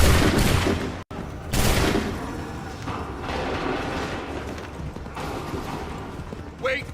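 A volley of musket gunfire from the Assassin's Creed 3 video game erupts in loud bursts, with a sharp crack near the start and then rolling, crackling shots and battlefield noise while commands are shouted.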